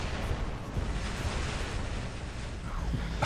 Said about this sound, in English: Energy explosion. That's how the guy died.